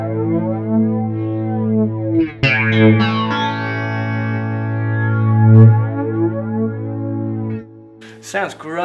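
A guitar played through a flanger effect on a Line 6 Helix processor gives sustained chords a sweeping, whooshing, swirling tone, loud and continuous, with a brief pick attack and a short break near the end.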